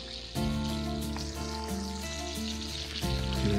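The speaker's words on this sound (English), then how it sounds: "Bacon frying to get the kiddos woke up." Steady crackling sizzle of bacon frying in a pan at a lakeside campsite, close up, with a low hum and faint tonal sounds in the background.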